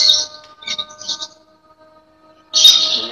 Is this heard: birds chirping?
yes